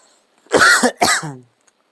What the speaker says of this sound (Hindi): थोड़ा खांसी भी हो रहा है